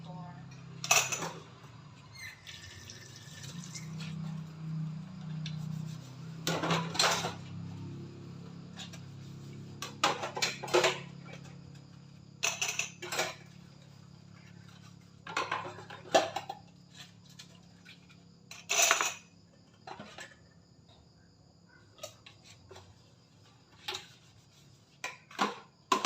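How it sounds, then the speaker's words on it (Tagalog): Dishes and cutlery clink and clatter in scattered bursts during washing, close by, with quiet pauses and a low background hum between them. "So, maghuhugas na ako ng pinggan."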